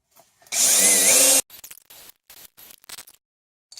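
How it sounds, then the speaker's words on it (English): A power drill whines loudly for about a second, then several short bursts of grinding and scraping follow as it drills holes through a plastic car part. "I can drill through the holes to make the holes in the plastic"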